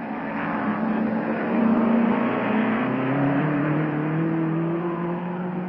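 A race car at the Glover Trophy at Goodwood passes the grandstands, its engine a sustained, steady roar with a slowly shifting pitch, moderately loud and without talk.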